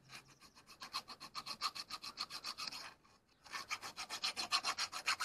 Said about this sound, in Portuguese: Então eu peguei uma lima dessa aqui, ó. Eu vou passar aí.